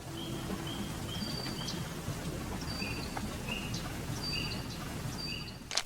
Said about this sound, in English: I added these bird sounds behind everything